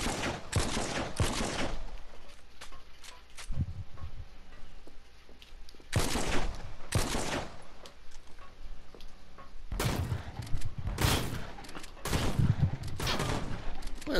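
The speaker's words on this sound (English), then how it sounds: "What is this, a sniper battle? Or a shotgun battle?" Gunfire from a video game sniper and shotgun battle, coming as loud, sharp bursts of rapid shots in three clusters, with quieter stretches of game ambience between them.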